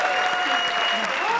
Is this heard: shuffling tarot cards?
no